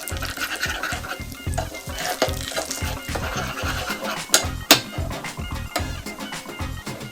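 Cumin seeds and chili powder are stirred in hot oil to make a spiced oil for Indian dal makhani, giving a steady crackling sizzle with rhythmic scraping strokes and a few sharper pops.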